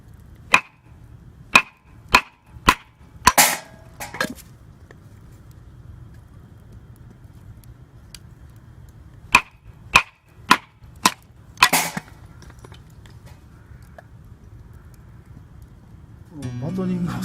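Batoning firewood at a riverside day camp: a knife is hammered through a piece of wood in sharp, loud knocks, a quick run of four or five blows, then a pause, then another burst, with rustling and faint background noise between.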